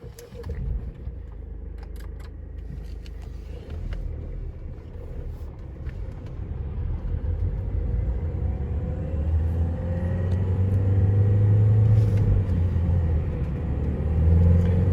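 Opel Astra 1.6 CDTI diesel car cruising on the road, a steady low engine and tyre rumble heard from inside that swells gradually as speed builds, with no talk.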